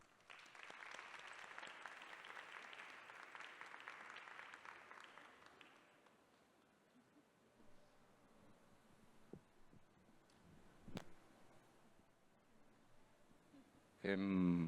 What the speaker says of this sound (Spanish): le damos un aplauso a Bruno y la bienvenida a Fábrica de Arte